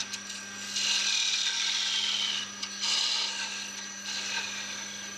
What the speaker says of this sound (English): The excess boxwood section is cut off